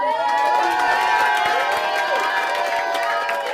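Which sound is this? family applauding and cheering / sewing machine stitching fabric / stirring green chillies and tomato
family applauding and cheering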